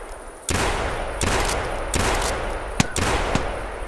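Rapid gunfire from shooting at ducks in theHunter video game, several loud bursts of repeated shots with brief gaps between them, close and clear with no talking.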